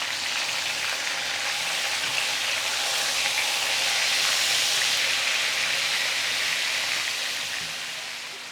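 Chicken frying in a pan over a high flame gives a loud, steady sizzle with a broad hiss that holds even throughout, easing slightly at the end, with no talking.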